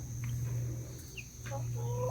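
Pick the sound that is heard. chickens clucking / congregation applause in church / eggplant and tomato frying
chickens clucking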